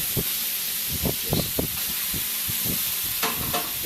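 Thin-sliced steak for a Philly cheese steak sizzles in a hot pan under a steady bright hiss, broken by repeated stirring scrapes and pops, close up, with no talking.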